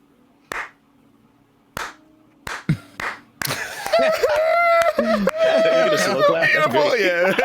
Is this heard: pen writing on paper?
no